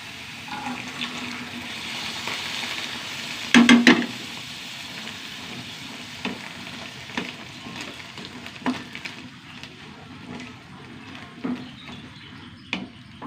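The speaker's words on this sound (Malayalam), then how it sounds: "നമ്മുടെ വേവിച്ച് വെച്ച കടല ഒഴിച്ച് കൊടുക്കും." Cooked chickpeas go into a pan of chickpea curry, giving a soft sizzle and bubbling simmer with a brief louder pouring splash, then scattered light clicks and stirring knocks over a steady low bubbling.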